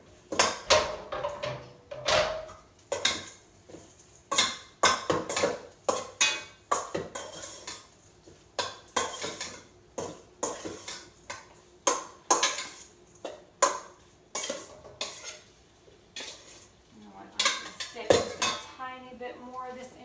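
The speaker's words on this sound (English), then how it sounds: "And then just stir that up really good." A utensil clinks and scrapes against a bowl while shrimp quinoa salad is stirred, giving close, irregular metallic clatters in bursts, with a brief faint voice near the end.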